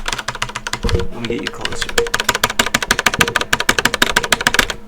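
Rapid computer keyboard typing during a gaming session, a dense run of sharp close clicks and clacks with steady fast rhythm, briefly mixed with game sound and a short spoken line.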